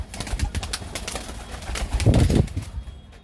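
Kusri pigeons in a coop coo as a male chases a female, with soft low throaty coos, a flurry of wing flaps and a louder burst near the end, close by.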